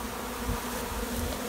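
A steady, dense hum of many honey bees buzzing together at a hive, continuous and fairly loud, with no voices.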